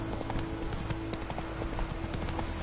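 The horse Roach galloping in a video game, rapid continuous clip-clop hoofbeats over a dense ambient bed, steady and prominent throughout.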